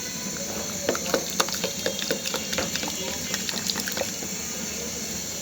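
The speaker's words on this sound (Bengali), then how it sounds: "ডিমটা সম্পূর্ণভাবে আমি ফেটে দিব, যাতে ডিমের কোনো অংশই গোটা না থাকে," An egg is beaten into hot soup with quick repeated clinking strokes over a continuous watery, bubbling hiss, fairly close.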